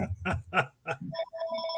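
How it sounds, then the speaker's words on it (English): A mobile phone ringing, heard briefly as a steady electronic ring following a few short bursts of talk. "That's my phone ringing, and I'm not going to answer it."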